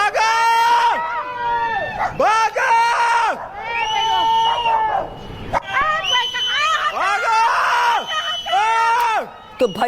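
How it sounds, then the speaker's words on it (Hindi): Panicked people screaming and shouting in a chaotic crowd during a cloudburst flood in Uttarkashi, with repeated loud, rising cries and agitated voices overlapping continuously close by. "ये तस्वीरें और लोगों की चीख पुकार सुन पा रहे हैं आप।"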